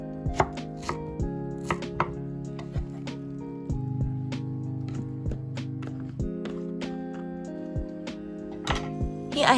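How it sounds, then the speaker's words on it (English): A knife chops a peeled mango into cubes on a cutting board, a close, irregular series of sharp taps and knocks at an uneven rhythm, with no talk. "I'm also cutting it into cubes like the way I did with the watermelon."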